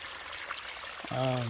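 Steady, even rushing of a small stream at a water source along the Appalachian Trail, close and continuous, with a voice starting to talk over it near the end.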